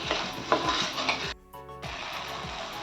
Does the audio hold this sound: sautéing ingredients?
yes